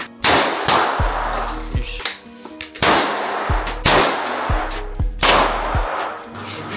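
Loud bursts of XM4 assault rifle fire in a video game, three rapid volleys each followed by metallic clanking and a low rumble, with a short gap between bursts.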